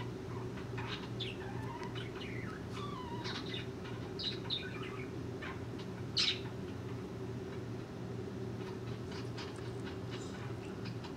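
Small birds chirp and trill in bursts outside a room, heard over a steady low hum from indoors, with no talking.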